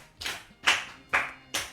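Four sharp claps ring out in a steady rhythm, close and clear, as children applaud a child at a Yoruba children's programme.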